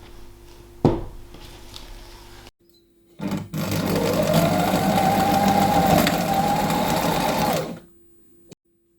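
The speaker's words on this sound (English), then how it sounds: "take this over to the sewing machine and stitch down those 2 lines" A sewing machine runs in one steady, buzzing burst of about four seconds, with a short mechanical start just before and a brief click at the end.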